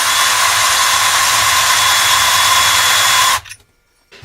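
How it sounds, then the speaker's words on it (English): A steady high-pitched whine of a spinning tool chamfers and deburrs a converted .300 Blackout brass case made from .223 brass, running loud and continuous before cutting off abruptly near the end. "Chamfer and deburr."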